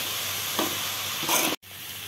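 Sliced okra and onion fry in a pan with a soft, steady sizzle, broken by two brief stirring scrapes before a sudden cut to silence.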